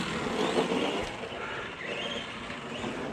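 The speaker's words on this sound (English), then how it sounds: "You can hear me give it the gas" An Arrma Granite Mega RC basher truck's electric motor revs under throttle, a steady close whine and drivetrain rush that swells slightly early and holds for about three seconds without pause.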